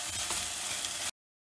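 Close, steady sizzling of mustard seeds, cumin seeds and curry leaves frying in hot oil, lasting about a second before cutting off to silence.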